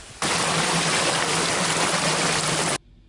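Second waterfall in Samboan, Cebu: a loud, steady roar of rushing water, close and unbroken for about two and a half seconds, then cut off abruptly into quiet.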